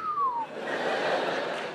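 A man imitates a mechanic's whistle with a short falling tone, followed by a steady airy hiss that continues until the end.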